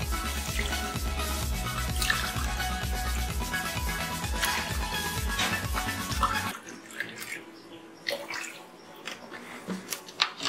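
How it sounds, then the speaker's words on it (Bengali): Water pours into a cooking pot holding sugar in a dense, splashing stream that stops after about six seconds, leaving scattered drips and light clinks. "জল দেবো 4 কাপ।"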